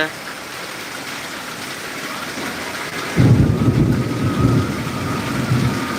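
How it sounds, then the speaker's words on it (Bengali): Steady heavy rain in Tangail with a deep rumble of thunder rolling in about halfway through, low and loud, with vehicles passing and faint voices underneath. "প্রচুর ঝড় বৃষ্টি হচ্ছে তার মধ্যে গাড়ি যাচ্ছে"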